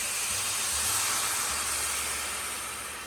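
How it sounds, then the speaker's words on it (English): Liquid stock hisses and sizzles steadily as it hits a hot pan of caramelized vegetables and rice, a broad bright steam sound that fades slightly toward the end. "Now we're going to add some stock."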